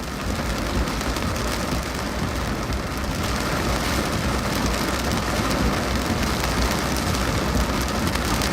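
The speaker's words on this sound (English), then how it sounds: "More rain coming in." Heavy rain pours down during a storm in upstate New York, a dense, loud, steady roar with low rumbling beneath it and no voices.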